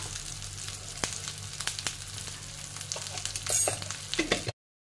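Ground masala paste roasting in a pan for katvada, a steady close sizzle with scattered crackles and light stirring before the sound cuts off abruptly.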